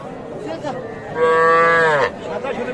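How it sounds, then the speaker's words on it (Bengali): A single loud, drawn-out moo from a young bull calf rises over faint background murmur at a calf market, with low lowing sounds just before it. "এই যে দেখছেন ষাঁড় বাছুর"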